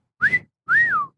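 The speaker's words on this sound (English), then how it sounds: "And give him that whistle." A person whistles two clear notes, a short chirp followed by a longer sliding note, close and alone with no talk.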